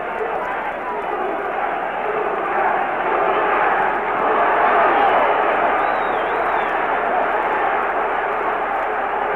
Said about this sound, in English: The crowd urging him on to the knockout.